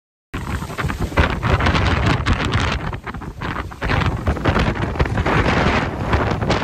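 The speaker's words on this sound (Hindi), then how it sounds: "इतनी जोरों से हवा चल रही थी कि बाइक चलाना नामुमकिन हो गया था" Strong wind roars and buffets a microphone beside a national highway, a loud continuous gusting rush with surges throughout and no voices.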